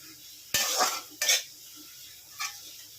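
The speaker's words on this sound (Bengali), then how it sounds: "ধনেপাতা ছড়িয়ে আমি এটাকে আর একটু নাড়িয়ে দিচ্ছি।" Fried bitter gourd with scattered coriander being stirred in a pan: a few scraping clatters of a utensil against the pan, two close together and a fainter one after, with no talk.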